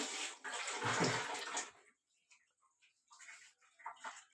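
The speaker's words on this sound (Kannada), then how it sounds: "ನೀರು ಕುದೀತಾ ಇದೆ ಈಗ ನಾನು ಅಕ್ಕಿನ ಹಾಕ್ತಾ ಇದ್ದೀನಿ" Rice pours into a pot of boiling salted water with a rushing, splashing sound for about a second and a half, followed by faint bubbling and small knocks.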